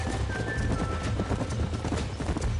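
Horses gallop in Red Dead Redemption, a rapid, continuous patter of hoofbeats close by, with a faint high tone and some background game ambience.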